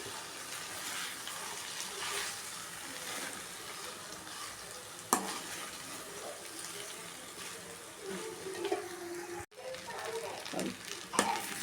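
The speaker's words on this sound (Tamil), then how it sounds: "இப்போ வடித்த சாதத்தை இதில் போட்டு எல்லாம் மிக்ஸ் பண்ண வேண்டியது தான்" Cooked rice being stirred into sautéed tomatoes in a pan for tomato rice, with a soft continuous sizzle under scraping spoon strokes and a sharp clack of utensil on the pan around the middle.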